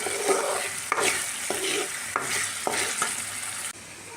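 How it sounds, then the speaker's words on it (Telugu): A dough ball of turmeric paste frying in oil, a loud bubbling sizzle with repeated rhythmic stirring strokes about every half second, the sound dropping abruptly near the end, no speech. "సో ఇలాగా మనం ఈ ముద్దని ఆయిల్లో ఫ్రై చేసుకోవాలి."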